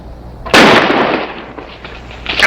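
A single loud, sharp gunshot cracks in a western TV series, close and alone, followed by a fading ring and a second quieter burst near the end.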